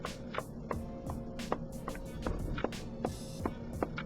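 A firmly stuffed cloth doll head is tapped by hand in a quick, steady run of dull, close knocks, about a dozen evenly spaced hits over a low background hum.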